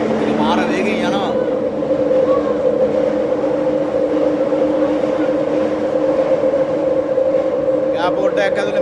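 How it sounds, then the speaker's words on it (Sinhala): A high-speed train running inside an airport in South Korea gives a loud, steady rumbling hum with a sustained tonal drone that persists throughout, close and continuous. "දුම්රිය දකුණු කොරියාව දක්වා ඇති සියලුම ස්ථාන නවත්තනවා. ඒක මාර වේගෙන් යනවා."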